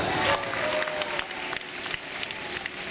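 Applause from a crowd at a live show with volunteers, a steady patter of clapping with sharp individual claps standing out, fairly near and moderately loud throughout.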